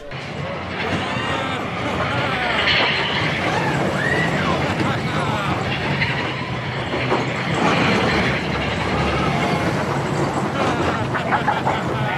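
A Big Thunder Mountain Railroad roller coaster train at Disneyland rattles and clatters along its track with wheel squeals, while riders talk and shout over the rumbling noise.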